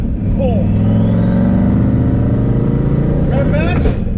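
A car's engine blips and revs during rev-matched gear changes through a faceplated Tremec TKO/T56 manual transmission, steady loud engine drone rising in pitch near the end, with someone talking over it.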